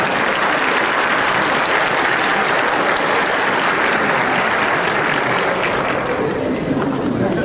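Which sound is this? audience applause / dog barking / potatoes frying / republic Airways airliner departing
audience applause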